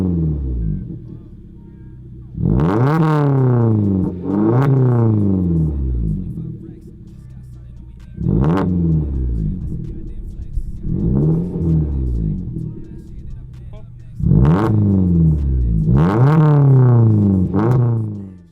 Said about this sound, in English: my exhaust system is a custom system by Legend X. It has a very unique sound